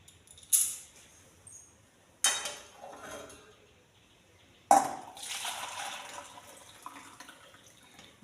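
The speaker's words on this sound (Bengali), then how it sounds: "গরম জলটা এবার আমি ঢেলে নেব, এই জায়গাটাতে ঢেলে নেব।" Hot water poured into a pot while making jujube pickle: a few sharp clinks of a vessel, then a soft, faint, sustained splash of pouring near the end.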